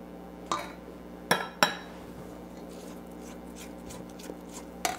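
Spoon or spatula clanking against a mixer bowl while transferring a thick fudge-like cookie mixture into a smaller bowl; a few sharp, close metallic knocks spaced apart over a quiet background, no talking.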